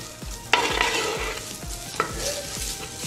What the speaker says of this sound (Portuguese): Dá uma refogadinha nele aqui rapidinho e a gente já volta